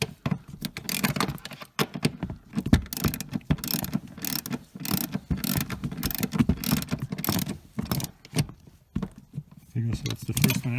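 A ratchet drives the bolts of a seat into the chassis of a 2008 Mercedes C300 (W204) in repeated bursts of quick clicking, close up, mixed with metallic handling noises and a voice talking throughout.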